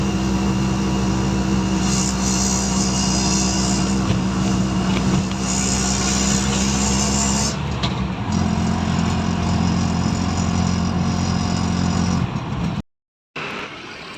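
Steady, loud engine drone from inside a moving auto-rickshaw heading to Badlapur East station, rumbling continuously with a slight shift in tone partway and a brief dropout near the end, no talking.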